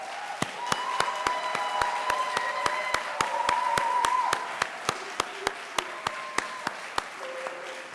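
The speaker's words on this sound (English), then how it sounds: "let's give them one more round of applause" Audience applause for eleven graduating students seated on stage at an evening pinning ceremony, a steady wash of clapping that swells and then tapers off, with a sharp regular ticking running through it.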